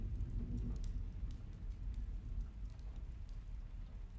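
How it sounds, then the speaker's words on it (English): Steady rain pouring down during a storm, a dense, even hiss with low rumbling underneath that continues the whole time, with no voices. "Once this storm subsides"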